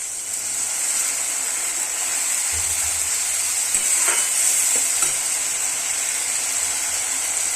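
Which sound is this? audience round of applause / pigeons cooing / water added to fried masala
water added to fried masala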